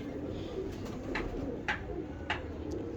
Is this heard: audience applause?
no